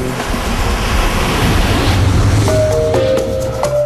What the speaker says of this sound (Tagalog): Matutulog ka, naririnig mo yung alon.